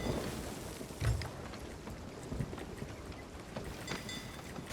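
Storm rain and rough sea aboard a sailing ship in the pirate game Sea of Thieves: steady dense rain hiss over churning water, with a low thump early on and faint distant rumbles throughout.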